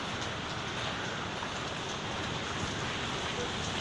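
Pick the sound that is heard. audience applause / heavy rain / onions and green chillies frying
heavy rain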